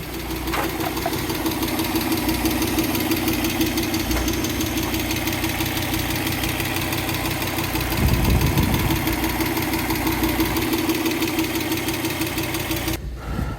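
A Fiat Coupe engine idles steadily up close while warming up, a constant low rumble with a faint knocking rhythm that cuts off abruptly at the very end.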